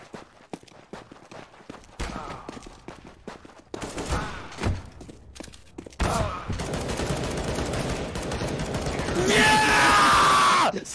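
Gunfire in the video game CS:GO: broadband shots and bursts build over several seconds and grow dense and loud toward the end, with shouting voices mixed in.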